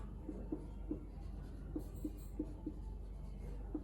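Pen or chalk writing out a term during a Class 12 macroeconomics lecture on national income, heard as faint, irregular scratchy strokes with soft taps, steady room hum beneath and no talking.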